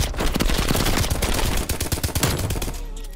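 A continuous, loud burst of rapid automatic fire from an M60 light machine gun in the video game Call of Duty Cold War, sustained for a few seconds with a brief dip before resuming.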